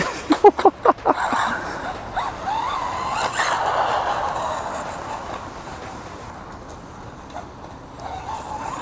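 A budget RC car under $160 accelerating at full throttle toward a ramp jump, a rising whining motor with rattling bursts, loud and close at first then fading as it drives away.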